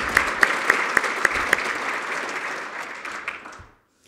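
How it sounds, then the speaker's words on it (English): Luncheon audience in Pittsburgh applauding, a full wash of many hands with a few sharp nearby claps early on, gradually fading before it stops. "give him a round of applause"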